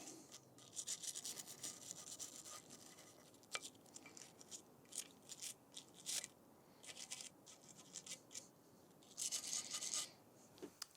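A rag wiping carbon buildup out of the notches of an over-under shotgun, giving close, uneven bursts of rubbing and scraping with short pauses between strokes.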